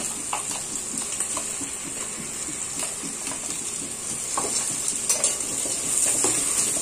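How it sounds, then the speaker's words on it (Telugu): Potato cubes are stir-fried with ginger garlic paste in oil for a veg biryani, giving a constant close sizzle broken by frequent scrapes and taps from a stirring spoon on the pan, with no voice. "ఈ పేస్ట్ పచ్చి వాసన పోయేదాకా తిప్పుకుంటూ ఫ్రై చేసుకోవాలి"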